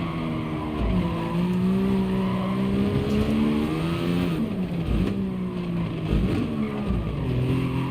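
Race car engine in GT Sport braking into a slow corner, revs dropping in stepped downshifts then climbing again, with tire squeal and loud close engine drone throughout.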